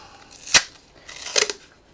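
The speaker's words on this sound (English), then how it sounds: "now I need my really mucky scissors." Two quick metallic snips from a pair of scissors, the first sharp and bright, the second a short double cut, close by with quiet in between.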